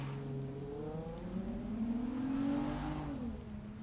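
A Mazda Miata race car, number 165, drives a timed solo run at Daytona, its mid-pitched engine droning steadily and rising in revs, passing near and loud without any talk.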